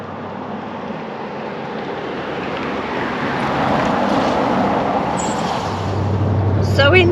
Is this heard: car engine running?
yes